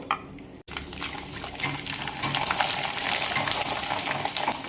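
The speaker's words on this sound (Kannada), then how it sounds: "ಎಣ್ಣೆ ಕಾದೈತಿ. ಈಗ ಹಪ್ಪಳ ಹಾಕ್ತಾನು." Spinach masala papad dropped into hot oil, a brief cut then a rising bubbling sizzle with light clatter, close and steady without talk.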